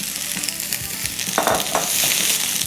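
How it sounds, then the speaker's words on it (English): Sliced peppers and onions sauté in hot vegetable oil in a pan, a loud close sizzle with brief stirring scrapes, continuous and without talk. "We're going to saute those a little bit."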